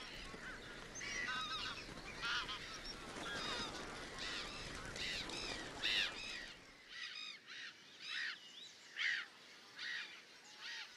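A flock of migratory geese honks in a dense, overlapping chorus among storks and black ibises in a Tagus valley wetland. Many calls continue steadily at a moderate distance, and a low rumble drops away partway through.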